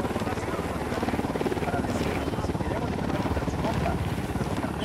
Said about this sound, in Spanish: Se acerca un helicóptero.